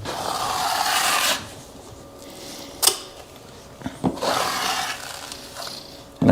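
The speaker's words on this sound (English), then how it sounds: "we're going to go ahead and start applying the joint compound" Close scraping and rasping strokes, a trowel smearing thick joint compound across drywall to repair cracks, with a few sharp knocks and taps between the long swipes.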